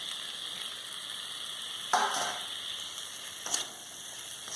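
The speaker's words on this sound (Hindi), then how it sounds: "इसको हम अच्छे से भून लेंगे।" Tomatoes frying in masala in a pan for an Odisha-style crab curry: a constant close sizzle, with two brief bursts of stirring and scraping partway through.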